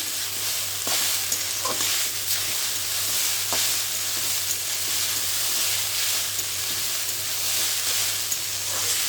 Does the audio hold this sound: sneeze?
no